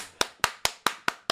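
A person claps alone at a steady, deliberate pace, six sharp, close hand claps about a quarter second apart with quiet gaps between them.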